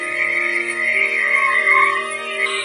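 A dense chorus of frogs croaking as a sound effect in a Bengali ghost story, a steady, layered drone of calls that holds at the same level throughout, with no voices.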